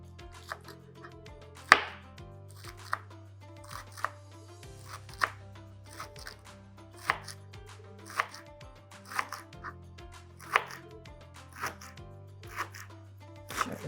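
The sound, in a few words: chopping ingredients for Sindhi biryani raita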